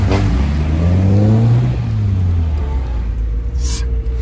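A Tofaş Doğan SLX car engine with a Varex exhaust revs hard, the loud exhaust note climbing and falling in a rough, throaty roar that fills the whole clip.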